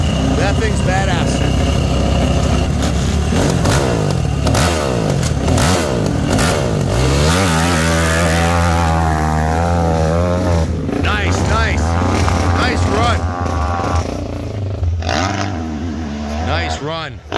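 Steel-frame Yamaha YZ450 dirt bike at a hillclimb in Monson, Massachusetts, revving hard with rising and falling engine pitch, loud and fairly close, while people talk and cheer nearby.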